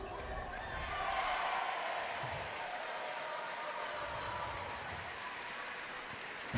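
A crowd cheers and applauds after a goal at the BPL finals night, a sustained broad roar of many voices and clapping that holds steady throughout, loud and close.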